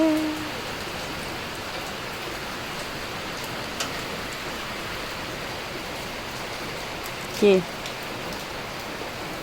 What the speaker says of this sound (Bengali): এই যে একভাবে বৃষ্টি।